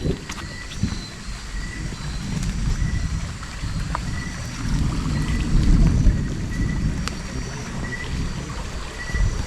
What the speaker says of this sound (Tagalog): Oh, dulugdog yung kulog, dulugdog.